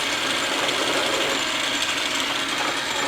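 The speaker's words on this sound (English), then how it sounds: "now I'm making an undercut" Metal lathe cutting an undercut at the end of threads on a tailstock die holder, a continuous loud, even mechanical whir with a bright, hissing texture throughout and no talk.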